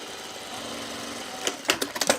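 Stitching a pullover camp shirt, a sewing machine starts after a quiet hum with a quick burst of rapid mechanical clatter near the end, close and fairly loud.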